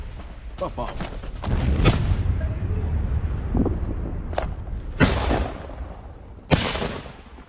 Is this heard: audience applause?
no